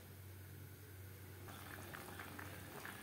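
Fish curry gravy made with extra water bubbles at a steady rolling boil in a pan, a faint continuous burble with small pops that grow slightly livelier toward the end.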